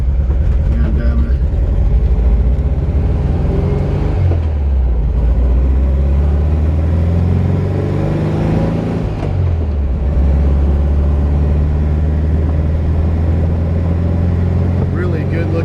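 A 1974 Volkswagen Thing driving, its engine a loud steady low drone that rises and falls as it revs through gear changes, heard from inside the car.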